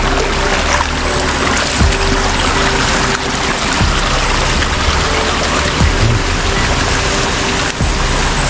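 Ice-cold water flows at a stream source, a loud, close, steady rush and gurgle with occasional splashes and knocks, continuous and without voices.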